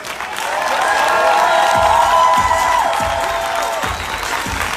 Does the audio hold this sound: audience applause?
yes